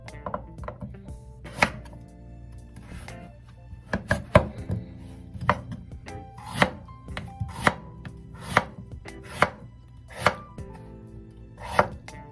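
Knife chopping radish into wide, flat pieces on a cutting board for pollock soup, a series of sharp, close thumps falling at an irregular but steady pace.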